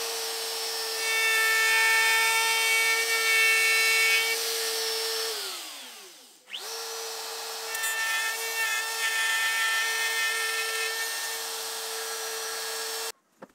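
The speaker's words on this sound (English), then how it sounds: "So here I'm setting the dovetail bit where I want it to route." Power router with a dovetail bit cutting dovetail slots into reclaimed wood for a dining table, a loud steady high-pitched whine with a spin-down and restart midway, then sustained cutting until it abruptly stops.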